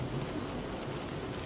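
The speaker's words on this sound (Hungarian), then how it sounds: "És kint megesik az eső." Steady rain falls outside in the game Close to the Sun, a soft even wash of noise that holds at the same level from start to finish, with no voices.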